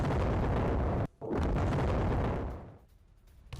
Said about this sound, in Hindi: बाइक सवार हमलावर हैं वो ग्रेनेड फेंकते हैं और उसके बाद होता है बड़ा धमाका